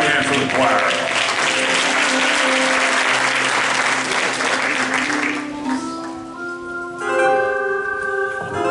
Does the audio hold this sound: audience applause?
yes